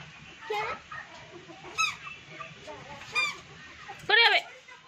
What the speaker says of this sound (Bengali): ওই আমাদের টুনির খাবারগুলো সব খেয়ে নিচ্ছে মুরগিগুলো।